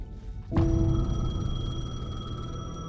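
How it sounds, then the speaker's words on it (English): A payphone rings in the video game Alan Wake II, one sudden loud metallic bell ring that cuts in and then rings on with a long shimmering decay, close and alone without any voices. "The payphone was ringing."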